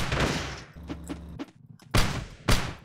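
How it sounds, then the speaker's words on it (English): Shotgun blasts in the top-down shooter Teleglitch, a few loud separate booms spaced about half a second apart, each with a short rumbling tail, then a gap and two more heavy shots near the end. "shotgun seems like crap"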